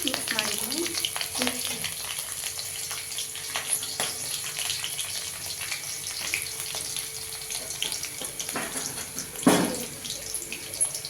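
Green chillies, garlic and chana dal frying in a pan for tomato gojju, a steady close sizzle under occasional scraping stirs, with a louder clatter near the end.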